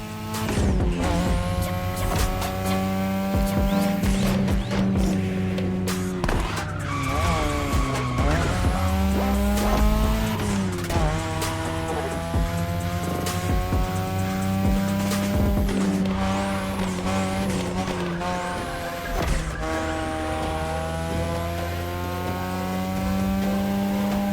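Race cars speed through The Crew Motorfest, with loud, continuous engine roar, shifting pitch as they rev and pass, and tire squeals and skids cutting in throughout.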